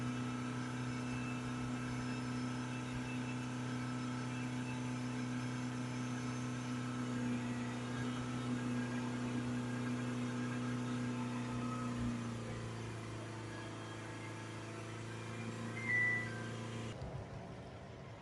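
A Mitsubishi ASX 2.3 diesel engine runs steadily with a constant low hum, then drops in pitch as it settles back to idle, close and continuous without any talk.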